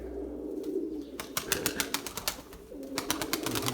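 Tumbler pigeons coo softly at a loft, with a run of sharp, rhythmic clapping or flapping bursts in the middle and a low background murmur throughout.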